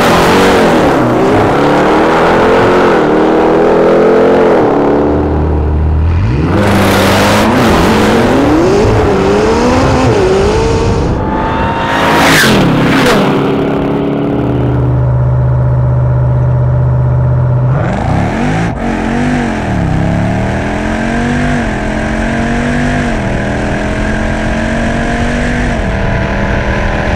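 A McLaren 600LT racing a 1,000 horsepower Jeep Trackhawk: loud engines rev and climb through repeated gear shifts, with rising and falling pitch, a brief lull, then another hard acceleration pull that continues to the end.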